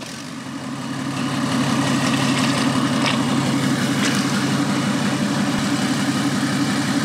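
Car engine idling steadily after an engine swap, a constant low rumble with a faint hiss, close and continuous throughout without any talk.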